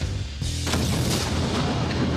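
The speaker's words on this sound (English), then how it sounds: "we're going to use black powder in a cannon to fire a 6-inch nail" Black powder cannon fires a 6-inch nail: one sudden loud, close boom that breaks through the quiet and rings out into a long, noisy decay.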